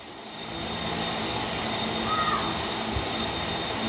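A video game airplane engine drones steadily and loudly throughout, a continuous whine with a low hum and no voices over it.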